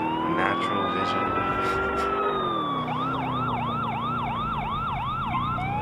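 A Crown Victoria police siren in GTA IV wails in long rising and falling tones, then switches to a rapid yelping pattern, loud and steady over a low engine hum.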